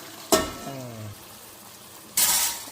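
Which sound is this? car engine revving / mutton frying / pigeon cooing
mutton frying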